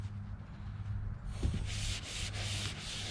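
Light hand sanding inside a plastic kayak bow bumper, a steady soft rasping scrape that grows more textured partway through, close and alone with no talk.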